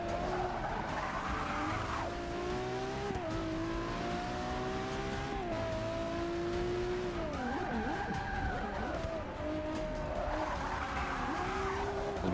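A car in the night drift race of the video game Forza Motorsport 6: Apex, its engine droning and revving up and down in loud wavering sweeps, with tire squeal and skidding throughout.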